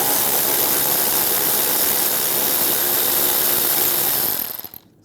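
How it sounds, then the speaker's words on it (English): Steady loud whir of a power tool spinning a 10mm socket to remove a nut while replacing the windshield washer reservoir on a 2005-2010 Dodge Dakota, running continuously before cutting off at the end. "we'll take this nut off. Use a 10mm socket."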